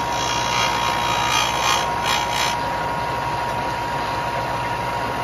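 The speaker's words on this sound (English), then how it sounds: "run that up against the sander" Bullet tip being ground against a disc or belt sander in a small jig while reshaping a 75 grain ELD match bullet, heard as a steady, loud mechanical whir and grinding hum with no talk.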